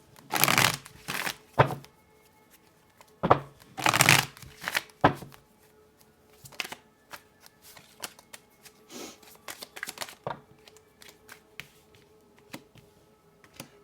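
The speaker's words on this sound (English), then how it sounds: "I'm just going to pull out a couple more cards before I get into this one." Tarot cards are shuffled and drawn in quick papery riffles and slaps, with a few louder shuffling bursts early on followed by softer scattered flicks and taps.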